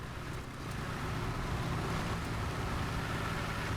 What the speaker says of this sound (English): the engine sound on the T-34. It sounds gorgeous.